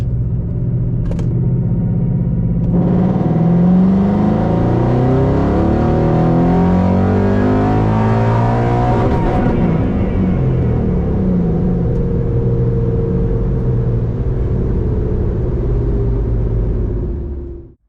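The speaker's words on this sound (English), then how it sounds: "we'll do our 2500 to 7500 WOT pull" A tuned car engine pulls at wide-open throttle from 2500 to 7500 RPM, a loud, close, continuous roar that climbs steadily in pitch and then falls away as the throttle closes, with no talking.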